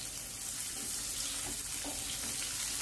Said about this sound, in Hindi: और अभी फ्रेंड्स प्याज को हमें बहुत अच्छे से फ्राई होने देना है।